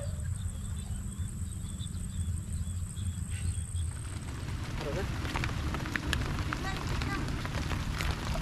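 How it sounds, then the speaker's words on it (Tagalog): Rain falls by a large river during a fishing outing in the countryside, a continuous hiss that thickens and grows louder partway through, with scattered pattering drops. "umuulan na po no. Umuulan na."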